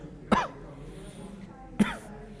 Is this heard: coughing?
yes